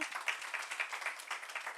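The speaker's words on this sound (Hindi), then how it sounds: "एक बार जोरदार तालियां बजाएं" Applause from an audience at a religious gathering held by a Jain nun in Moradabad, faint and distant, a continuous patter of hand claps lasting a couple of seconds with no one speaking.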